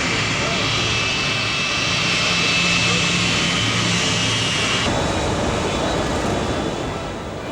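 The four piston engines of the B-24 bomber Diamond Lil run together on the ground at Minneapolis, a loud, continuous droning roar that holds steady and shifts slightly in tone partway through.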